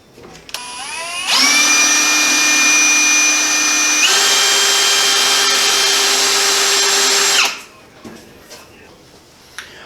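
A power drill drives screws into pellet stove pipe at a clean-out tee and adapter, a loud close whine that holds steady for several seconds, shifts pitch midway, then winds down, with faint clatter before and after.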